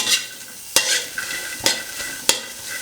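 Shallots and garlic dry-roasting in a pan with chillies, giving a soft crackle broken by four sharp scrapes and knocks of a stirring utensil spaced about a second apart.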